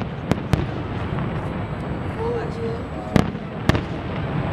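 Several sharp fireworks rocket bangs pop at a distance during a fireworks castle display, a couple in quick pairs, over a steady murmur of background crowd noise.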